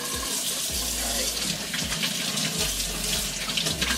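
Tap water runs steadily into a cooking pot in a home kitchen during Thanksgiving meal prep, a continuous close splashing gush with a hollow filling tone, heard alone without talk.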